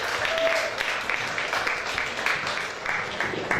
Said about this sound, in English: Please give them a warm applause as they're coming on.